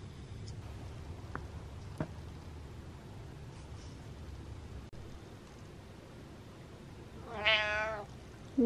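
A house cat gives a single clear meow near the end, following quiet background hiss and a couple of faint taps, with no talking.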